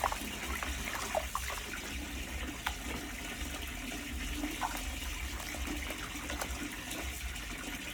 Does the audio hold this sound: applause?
no